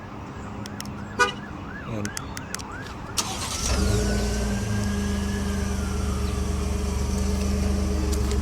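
2019 Ford F150 Platinum EcoBoost remote-started, with a few short chirps and tones at first, then the engine catching and settling into a steady low idle with a faint burble, while a voice briefly speaks.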